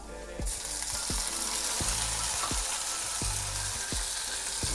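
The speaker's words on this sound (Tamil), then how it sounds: "சேர்த்துட்டு நல்லா கிண்டி விடுங்க வெங்காயம் கொஞ்சம் வதங்கட்டும்" Onion and tomato sizzle steadily in a hot pan, and a spoon scrapes through them in regular strokes about every half second, close and continuous with no voices.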